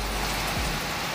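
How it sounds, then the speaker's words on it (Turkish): Heavy downpour in Erbaa, Tokat, a steady dense hiss of rain striking surfaces, loud and continuous with no voices. "Aşırı yağmur yağıyor şu anda."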